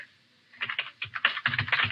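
Quick bursts of keystrokes on a computer keyboard while entering details into bookkeeping software, close and clear, starting after a brief quiet pause and continuing in an uneven rhythm.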